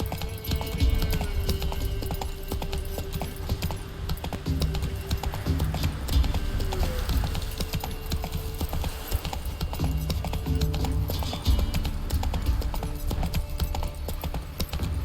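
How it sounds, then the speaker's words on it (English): A horse gallops in The Witcher 3: Wild Hunt, its hooves beating a rapid, steady clip-clop that stays loud and close for the whole stretch, with occasional faint game sounds in the background. "Whoa there, Roach"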